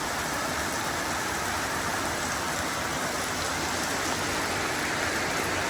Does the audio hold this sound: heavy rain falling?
yes